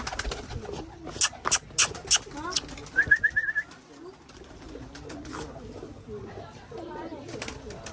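Pigeons in Rajkot, Gujarat coo nearby, with several sharp chirps and a short burst of rapid calls. Soft rustling and faint background activity continue around them.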